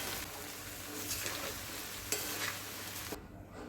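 A spoon stirs soaked poha with potatoes, chilli powder and salt in a pan, making a soft, continuous scraping and faint sizzle, close but quiet.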